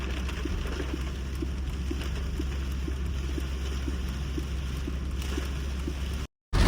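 Heavy rain pours steadily in a Punjab village during flooding, a dense, even hiss with faint ticking drops and low rumble, continuous and close before a brief dropout at the end.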